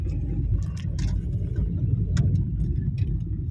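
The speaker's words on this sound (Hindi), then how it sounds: "आराम से आपने टर्न कंप्लीट किया, फिर से एक्सेलरेट कर रही है।" A car accelerates again after a turn on a very rough, broken road, with a steady low engine and road rumble and scattered rattles and knocks from the cabin.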